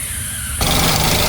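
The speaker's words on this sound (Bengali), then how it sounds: "গাড়িটা কিন্তু স্টার্ট অবস্থায় আছে দেখেন একদম স্মুথলি সাউন্ড আছে" A second-hand Toyota X Corolla with a 1000cc VVT-i engine running at idle, a steady mechanical hum that grows a little louder and fuller partway through, with no talking.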